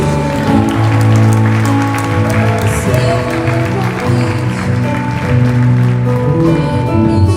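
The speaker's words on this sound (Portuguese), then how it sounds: "as palmas glorificam o nome do Senhor." A church congregation applauding during a Sunday morning service, the steady clapping carried over sustained organ or keyboard chords that hold underneath throughout.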